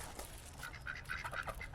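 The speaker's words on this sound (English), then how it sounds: "Ducks, geese. I think they are geese, aren't they?" Waterfowl at Wicksteed Park in Kettering, ducks or geese gathered to be fed, give short repeated honking quacks over steady outdoor ambience, fairly close and moderately loud.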